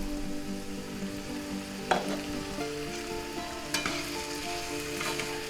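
Green peppers and onions softening in a covered pan, sizzling steadily and quietly with a couple of brief clinks or stirring knocks, no talk.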